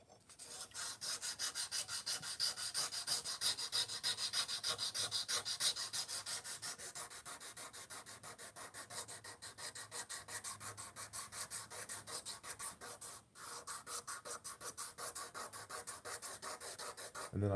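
Steady, rhythmic scraping of a kitchen knife drawn back and forth across a 220 grit sharpening stone, close and fairly quiet, with even repeated strokes and a brief pause near the end.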